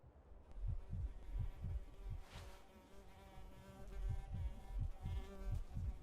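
A player's heartbeat thumps in Carnivores Dinosaur Hunt, a steady series of soft, low double beats in quick rhythm under a faint insect-like hum, with no talking.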